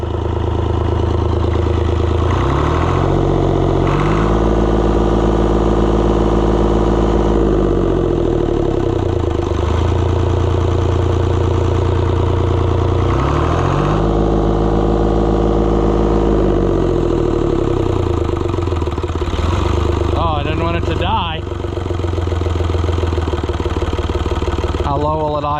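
Oliver 1250-A tractor engine running steadily at idle, a loud, continuous, close-up rumble with a few rhythmic swells in pitch and some clatter near the end.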